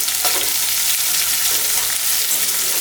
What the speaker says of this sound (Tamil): பெரிய வெங்காயம் மீடியம் சைஸில் 3 வெங்காயம் போட்டுக்கிறேன்